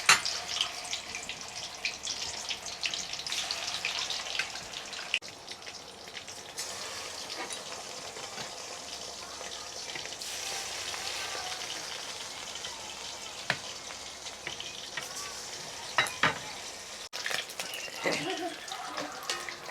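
Brigate fish sizzle as they are placed in hot mustard oil in a wok, a soft, steady crackling hiss that runs throughout with a few sharper spatters and clinks.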